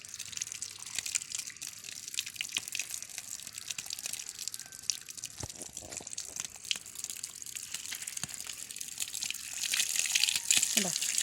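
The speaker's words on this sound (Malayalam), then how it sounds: "നമുക്ക് വെള്ളത്തിൽ വെച്ച് ഒന്ന് നന്നായിട്ട് വാഷ് ചെയ്തെടുക്കാം." Pandanus plant roots being washed free of soil in water: soft splashing, trickles and scattered drips, fairly quiet and close, the swishing growing a little busier toward the end.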